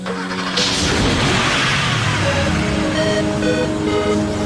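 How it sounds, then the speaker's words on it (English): An animated sci-fi racing machine's engine fires up with a burst and climbs into a loud, rising whine, revving steadily and close with no voices over it. "You can start the engine, Lucy"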